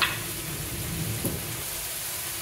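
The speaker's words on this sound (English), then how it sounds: "add our jalapeno and our garlic ginger paste and let that cook for about 30 seconds" Jalapeno and garlic ginger paste sizzle steadily in a hot pan, a soft continuous frying hiss with a brief stir near the middle, alone with no talk.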